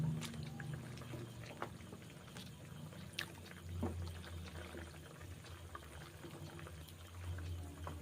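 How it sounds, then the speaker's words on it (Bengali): Water is poured into a pan of frying chhana bora, the vegetarian cheese dumplings being stirred with salt and spices, giving a faint, steady hiss and bubbling that runs throughout. "এখন আরেকবার জল দিলাম"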